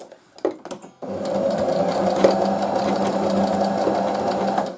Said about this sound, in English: this isn't the best sewing machine, but it does me for what I want to do.